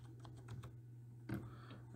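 Keystrokes on a computer keyboard as a command is entered in a Red Hat Linux terminal, a quick run of light taps followed by a single louder clack, all fairly close over a steady low hum.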